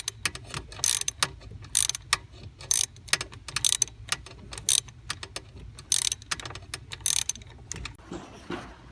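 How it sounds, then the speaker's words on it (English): Ratchet wrench clicking in repeated bursts while tightening a screw on a Ford ignition switch wiring harness, close and crisp with short pauses between strokes, no talking. "I'm gonna put the ratchet on and tighten up that screw."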